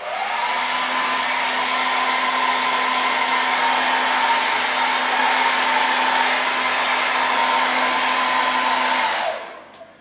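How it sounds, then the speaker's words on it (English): A hairdryer blows steadily at close range with a constant whirring hum for about nine seconds, then cuts off abruptly. "I'm just going to blast myself with a hairdryer."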